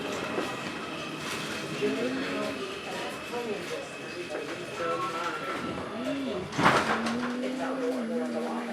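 Interior of an R142 subway car on a Bronx-bound 2 local running between 28th and 34th Street–Penn Station, with a steady rolling rumble, squealing wheel tones and a loud clank midway, under an announcement voice.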